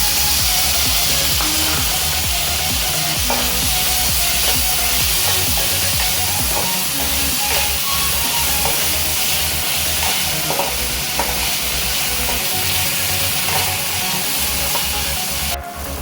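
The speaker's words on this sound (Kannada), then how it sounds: "ಕೆಂಪಾಗೋ ಗಂಟ ಎಣ್ಣೆಲಿ ಫ್ರೈ ಮಾಡ್ಕೋಬೇಕು. ನೆಕ್ಸ್ಟು ಟೊಮೊಟೊ ಹಾಕ್ತೀವಿ." Onion and tomato frying in oil in a pan for a ridge gourd palya, a steady close sizzle with stirring scrapes running continuously throughout, no voices.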